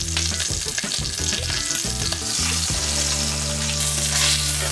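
Pot roast beef sears in a hot pan with a loud, continuous sizzle and crackle, close up, with no talking.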